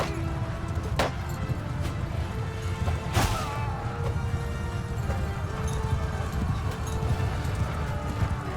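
Horse hooves clip-clop steadily in a Mount & Blade II Bannerlord battle, a dense rhythmic clatter of galloping horses close by, with a couple of sharp impact cracks and no speech over it.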